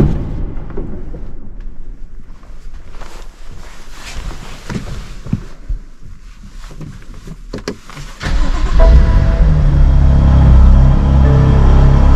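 A stock BMW M2 CS engine turns over and catches, jumping into a loud, deep idle rumble after several seconds of quieter interior clicks and shuffling.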